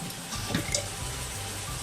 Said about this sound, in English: Just in the sink here. What I do is I just put a little bit of water